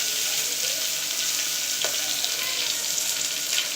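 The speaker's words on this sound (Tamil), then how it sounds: "ஆனியன் அப்புறம் க்ரீன் சில்லி போட்டு கொஞ்சம் நல்லா லைட் ப்ரௌனிஷாக வர வரைக்கும் ஃப்ரை பண்ணுங்கள்." Onions and green chillies frying in hot oil with curry leaves and garam masala, a steady close sizzle with a brief stir scrape partway through, no voices.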